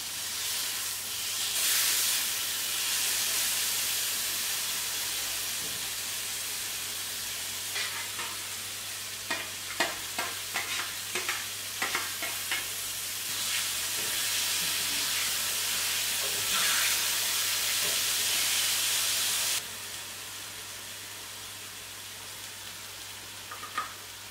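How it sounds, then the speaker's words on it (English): Tuna sears in a hot pan with a loud, continuous close sizzle, broken midway by quick clicks and scrapes as the fish is turned, then the hiss fades to near quiet. "Tuna cooks very quickly, so you don't want to leave it too long, but you want to make it a nice sear."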